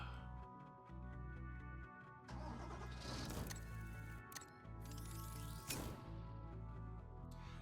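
A bulldozer engine in Construction Simulator cranks and catches twice, then settles into a loud, steady mid-pitched diesel rumble with a few clanks along the way. It is heard close up and alone, with no talking.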